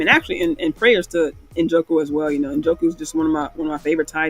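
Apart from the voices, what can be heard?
None of the usual background noises is heard.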